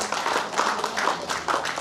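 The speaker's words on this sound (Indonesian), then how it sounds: "Tepuk tangan kita semua." Attendees at a family association assembly clap after a new chairman is announced, a moderate, somewhat distant patter of hands that swells and dips in uneven bursts.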